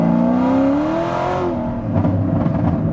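A Chevrolet Corvette C7 ZR1 with a manual gearbox pulls hard in second gear on Toyo tires, its engine note climbing steadily in a loud, close whine before easing off into rumbling idle bursts.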